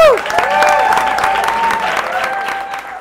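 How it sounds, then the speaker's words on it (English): A crowd applauds at a Nerd Nite Orlando talk on the Yoruba Orisha pantheon, with dense, steady clapping throughout and a few high whoops or whistles riding on top. "so let's hear one more round of applause."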